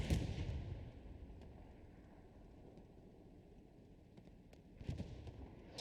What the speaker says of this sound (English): All right, artillery dropping on point.